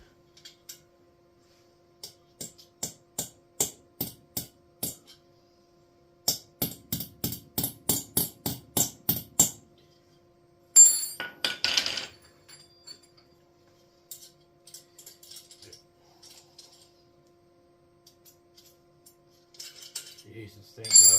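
A hammer strikes a diesel parking heater under repair in quick rhythmic bursts of sharp metallic taps, several runs of clanks, followed by rattling and scraping of parts and then quieter handling.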